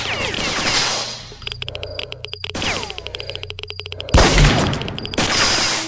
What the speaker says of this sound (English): Okay, someone's shooting at me.